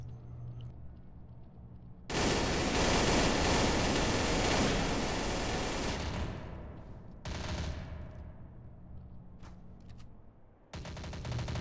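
Rapid automatic gunfire from the Counter-Strike: Source video game rattles in loud, dense bursts, with a long sustained volley and shorter sharp bursts after brief gaps.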